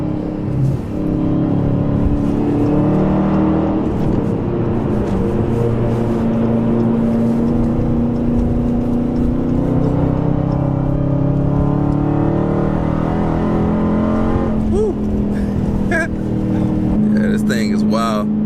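A Dodge Challenger Hellcat accelerating hard, its loud engine note climbing steadily with rising pitch and sustained roar, close to the listener, with a voice talking over parts of it.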